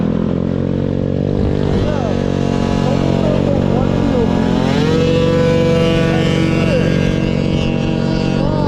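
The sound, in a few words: 150cc moped engine revving while popping wheelies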